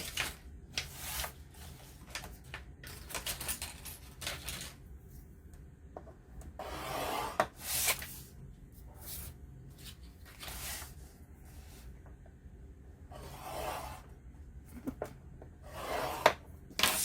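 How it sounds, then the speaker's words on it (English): Paper from a vintage sewing pattern being scored on a scoreboard: a series of dry scraping and rubbing strokes in short bursts, close and fairly quiet, with no talking. "I'm gonna grab my scoreboard and I'm gonna score both of these."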